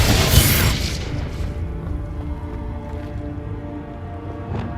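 Confringo explosion spell going off in Hogwarts Legacy inside a cave: a loud, bright blast that bursts at the start and fades into a rumbling tail, with a smaller crack near the end.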